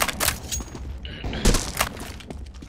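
A flashbang grenade detonates in a Counter-Strike match: a sharp, shattering burst at mid-clip cuts through a busy stretch of scattered game noise, with another crack just after.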